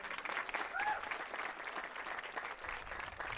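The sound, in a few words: audience clapping at graduation ceremony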